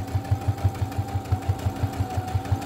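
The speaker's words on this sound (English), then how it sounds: "I'm sewing right across that line that I marked." A sewing machine stitches steadily across a marked line, its needle thumping in a fast, even rhythm of about six beats per second, close and clear with a faint motor hum beneath.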